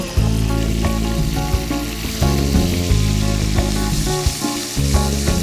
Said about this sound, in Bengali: আমরা এখন ম্যারিনেট করা মাছটা তেলের মধ্যে দিয়ে ভেজে নেব।